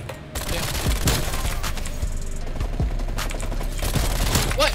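Rapid bursts of gunfire from Call of Duty: Black Ops Cold War, dense and loud, with repeated shots rattling throughout alongside clanks and mechanical gun handling.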